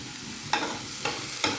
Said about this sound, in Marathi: छान प्रकारे हिरवी मिरची आणि लसूण जो आहे आपण यामध्ये परतवून घेऊया